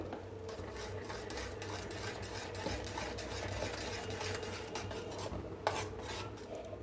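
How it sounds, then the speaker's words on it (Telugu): Gram flour being stirred into jaggery syrup for Mysore pak, a steady scraping, rasping stir of a spoon against the pan, close and continuous throughout with no talk. "ఆ శనగపిండిని కొద్ది కొద్దిగా వేసుకుంటూ పాకంలో కలుపుకోవాలి"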